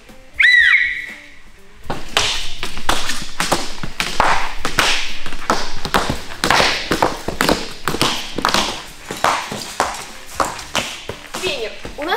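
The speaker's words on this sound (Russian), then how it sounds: "Моя свистулька." A toy whistle gives a short rising-and-falling shrill toot at the start, then fast talk and tapping sounds take over for the rest of the clip.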